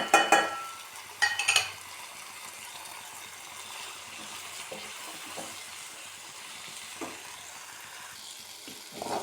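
Brinjal pieces sautéing with chilli and turmeric powder give a low, steady sizzle in a pan, opening with a couple of loud scraping stirs, then quieter occasional spoon movements over the faint frying hiss.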